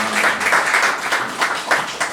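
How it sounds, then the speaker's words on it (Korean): Congratulatory applause at an honorary doctorate ceremony at a Korean theological graduate school, a crowd clapping in uneven swells across the whole stretch, fairly loud and close. "축하의 박수 해주시기 바랍니다."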